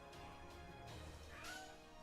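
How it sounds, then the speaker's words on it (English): A cat meows at a door, a couple of short drawn-out calls, faint and somewhat distant over a quiet background. "Just meowing at the door."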